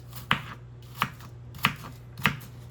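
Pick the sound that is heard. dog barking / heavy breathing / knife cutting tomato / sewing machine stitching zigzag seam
knife cutting tomato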